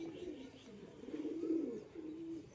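A pigeon being given cold medicine coos in low, throaty rolling phrases, close and fairly clear, with a short pause before a final coo.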